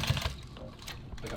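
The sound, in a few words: sewing machine stitching nylon tactical gear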